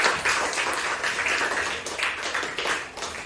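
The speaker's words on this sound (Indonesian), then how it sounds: "kita berikan tepuk tangan untuk semua kelompok" A class of students claps steadily in continuous applause for all the groups, a dense wash of many hands that swells and dips slightly over a few seconds.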